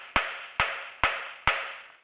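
A hammer strikes the rear half shaft of a Ford Transit van four times at an even pace, each blow a sharp, loud metallic crack that rings briefly before the next.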